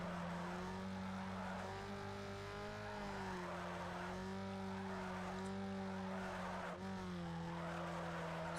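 In Need for Speed Underground 2, car tires squeal in a long, continuous skid during a drift race, with the engine note rising and falling steadily underneath the loud, sustained screech.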